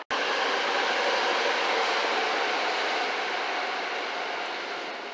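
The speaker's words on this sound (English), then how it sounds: "That's the train to Brussels." A train bound for Brussels roars past on the line beside a station, a loud, steady wash of rumbling and rushing noise that keeps going with no break from start to finish.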